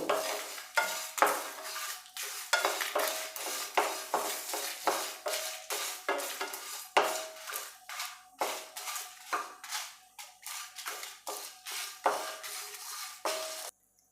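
Dry-roasting coconut and fennel seeds in a pan, stirred steadily with a utensil that scrapes and clinks against the metal in a quick, continuous rhythm, with faint sizzling beneath and no voices.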